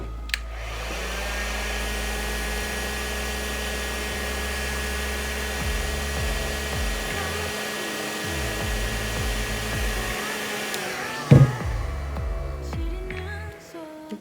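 A heat gun blows steadily, shrinking heat-shrink tubing on a 1S LiPo battery charging harness. The loud, even whoosh holds for about eleven seconds, then cuts off with a click and a few handling sounds.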